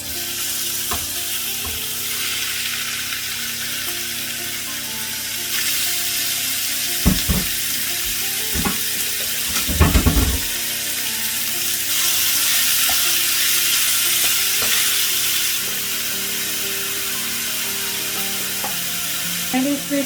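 Chicken frying in a tablespoon of oil in a frying pan, a loud, continuous close sizzle with a few louder bursts and clatters as pieces are stirred.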